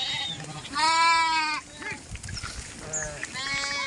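Sheep and goats in a flock grazing green grass in rainy farmland, bleating in a run of loud, wavering calls near and farther off, with a brief pause and a few softer bleats in between.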